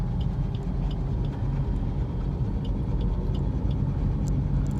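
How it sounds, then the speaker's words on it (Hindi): A car engine hums steadily while driving, a continuous low rumble with road noise that holds even and unbroken throughout, fairly close with no talk over it. "गाड़ी हमारी चालू हो गई"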